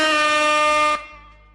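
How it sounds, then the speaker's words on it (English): A single loud air horn blares for about a second, then cuts off abruptly and leaves a faint fading tail. "Give me another air horn, Mark."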